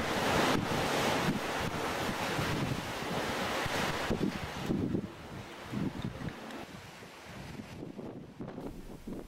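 Ocean waves surge and wash against rocky points on the Point Reyes National Seashore coast, a loud continuous roar mixed with wind buffeting the microphone, then easing into softer, broken swells.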